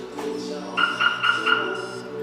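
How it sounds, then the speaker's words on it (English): A Hummer's Viper car alarm chirps on disarm after being triggered: several short, bright electronic beeps in quick succession over a low background hum, moderately close. "When we disarm, we're going to get 4 chirps."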